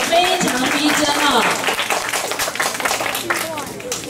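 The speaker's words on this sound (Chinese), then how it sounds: "请掌声鼓励一下他们的表演啊" An audience at a primary school creative model and dance competition claps for a children's group performance, scattered applause beneath an announcer's voice throughout.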